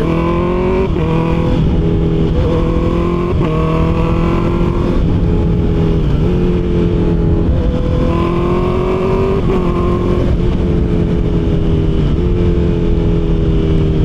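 A 2024 Honda CB650R inline-four motorcycle engine with an IXIL full-system aftermarket exhaust drones loudly and continuously, its pitch climbing and dropping through repeated revs and gear changes, with a coarse, throaty edge.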